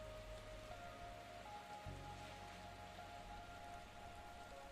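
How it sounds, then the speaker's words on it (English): Rain falling outside an old library, a soft, steady patter of drops on surfaces heard alone at low level, constant throughout. "Listen to the rain outside this old library."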